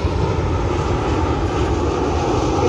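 A fixed-wing airplane passing overhead above a residential area, a loud, steady low roar of engine noise that fills the whole moment without a break.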